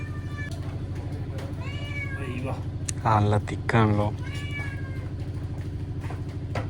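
Two loud, close cat meows in quick succession interrupt a person talking over a steady background hum.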